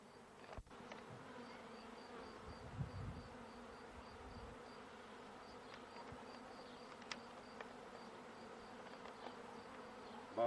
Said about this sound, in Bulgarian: Сега ще чакаме влиза всички пчели